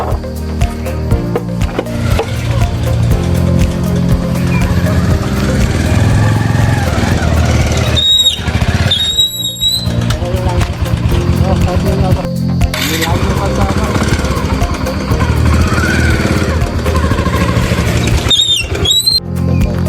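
A motorcycle that got soaked in heavy rain the evening before starts and runs steadily at close range, a loud continuous engine drone lasting throughout with a few brief interruptions.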